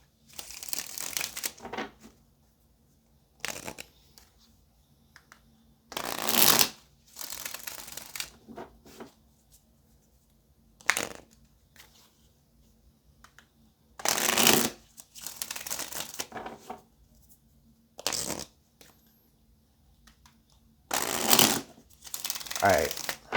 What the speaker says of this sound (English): let's go ahead and shuffle these cards some more